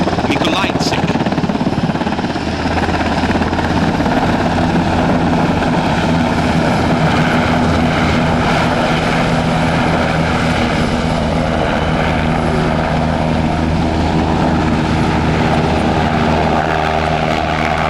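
A German Army NH90 TTH helicopter flies a display at an airshow, a loud continuous rotor and turbine drone with low thumping throb, heard under a commentator's voice.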